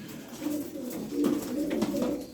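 Pet pigeons of breeds such as Miski, Nuhudi and Çingene Mavi, kept in Darıca, coo in low, soft, repeated throaty phrases close by over a faint background hiss, with no talking.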